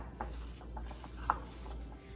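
A spoon stirs a dry mix of haldi, red chili powder and dana jeera in a bowl for bitter melon stuffing, giving soft, irregular scraping and rubbing strokes with one sharper tap, faint and close, with no talking.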